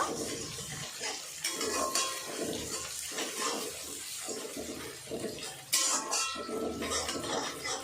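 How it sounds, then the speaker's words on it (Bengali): Ginger paste being stirred into a rohu fish curry with new potatoes in a pan, wet sloshing and sizzling with rhythmic spatula scrapes and one louder clatter, close and without talking. "সব কিছু ভালো করে নাড়াচাড়া করে নেব।"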